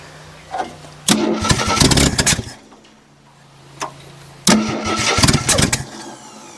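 A 1974 AMC Javelin, pulled from trees after over 30 years, cranks twice with a starter whir, each attempt a loud rough sputtering burst that fails to catch, separated by a short pause.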